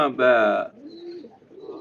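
A line-bred pigeon gives one loud, close coo, then a softer trailing throaty murmur.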